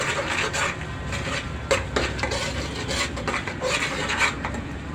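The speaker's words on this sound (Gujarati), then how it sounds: "હળદર ધાણા જીરું હલાવી દેવાનું" Turmeric, coriander and cumin spices are stirred in a pan, a soft, repeated scraping and rasping of a spoon against the pan's surface with light clinks, fairly quiet and steady, without talking.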